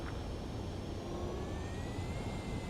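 An aircraft approaches to land in the flight combat game Ace Combat 7, a steady whining engine drone with a rising tonal whine over broadband rumble, continuous and fairly faint, with no talk.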